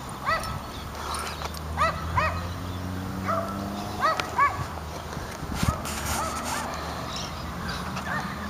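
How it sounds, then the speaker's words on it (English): Small dogs yap behind a fence in a semi-industrial edge of town along a river walk, several short barks repeating at a moderate distance over steady outdoor background noise. "There's the yapping dogs in behind that fence there."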